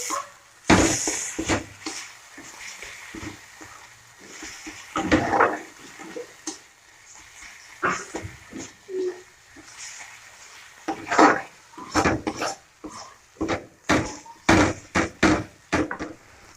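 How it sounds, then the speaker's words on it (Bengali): A spoon knocks and scrapes against a pot as curry with chilli powder is sautéed over low heat, giving irregular clatters and taps that grow into a quicker run of knocks toward the end. "আমি অল্প আঁচে একটু কষাচ্ছি"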